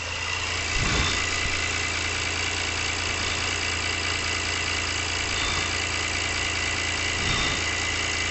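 A 2018 Honda Pilot 3.5L V6 engine idles just after starting, following timing belt and water pump replacement: a low, even rumble with light mechanical ticking, plus a couple of brief louder knocks, with no one speaking.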